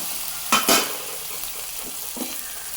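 Green chillies and ground coriander paste drop into tomatoes frying in a pan, giving two short bursts of sizzle and stirring followed by a steady, quieter background fry.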